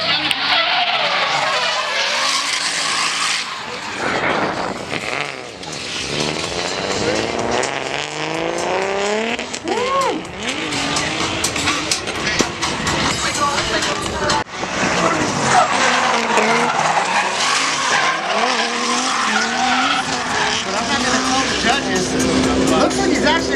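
A drift car at a drift competition slides sideways with its tires squealing loudly and almost nonstop, the engine roaring through the skids while a commentator talks over the noise.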